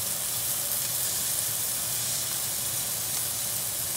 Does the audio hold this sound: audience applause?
no